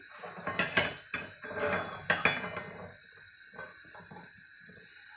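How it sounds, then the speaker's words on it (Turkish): A metal pot clanks down onto a stovetop with a couple of sharp clattering knocks, followed by quieter handling sounds nearby. "tenceremizi ocağımızın üzerine koyalım"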